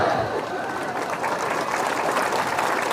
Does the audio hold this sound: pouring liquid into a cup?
no